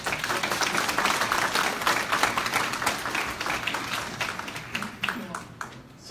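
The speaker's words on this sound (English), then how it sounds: "Give him a round of applause, y'all." Dense audience applause at a monthly community meeting, loud crisp clapping with some voices underneath, tapering slightly near the end.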